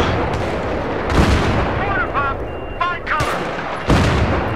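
Battlefield 3 gunfire rattles in sharp bursts, with several loud cracks and booms spread across a few seconds amid chirping game effects, while a player's voice is heard between the shots.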